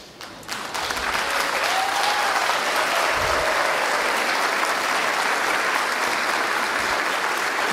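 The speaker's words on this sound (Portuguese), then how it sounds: "ficassem em pé para receber uma salva de palmas" A crowd claps for new first-year university students who stand to be welcomed, the applause swelling in after a short quiet start and then staying thick, loud and unbroken.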